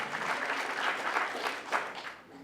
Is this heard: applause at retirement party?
yes